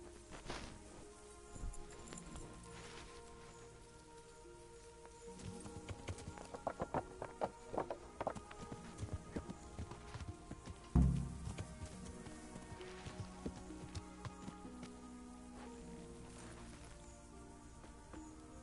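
Horse hooves clip-clop at a fast gallop in the video game Kingdom Come, a steady rapid pattern of thuds over a soft background, with one louder thump near the middle.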